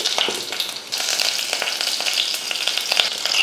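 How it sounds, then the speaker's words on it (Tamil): Mustard seeds, dried red chillies, curry leaves and asafoetida crackle and sizzle loudly in hot oil, with a dense continuous spatter close up and a brief dip in the first second. "எண்ணெய் காஞ்சதுமே கொஞ்சம் கடுகு பொரிஞ்சதுமே 2 வரமிளகாய், கொஞ்சம் கருவேப்பிலை, பெருங்காயத்தூள்"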